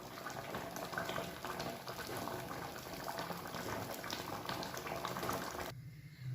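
Bottle gourd and urad dal boiling in a pot make a continuous, close bubbling and simmering that stays even throughout, then drops away abruptly near the end.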